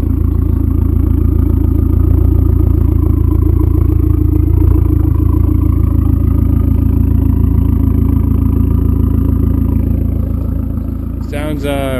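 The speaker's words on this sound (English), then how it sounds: "here's the Borla exhaust. I'll go quiet so you guys can listen." A car idles and rumbles through a Borla exhaust, a steady loud low engine drone with a clattering pulse that holds for about ten seconds and then fades slightly.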